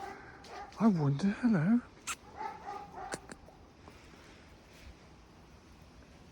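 A big dog barking and whimpering on a street in Tiraspol, Transnistria, giving a few close yelping, whining calls followed by a couple of short barks, while someone speaks briefly over them.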